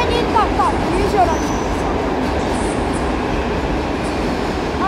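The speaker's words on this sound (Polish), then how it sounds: "I podstawia się również pociąg Intercity Jeziora" Intercity Jeziora passenger train pulling into Wrocław station, a steady loud rumble of rolling wagons with faint wheel squeals, heard from close by while someone talks over it.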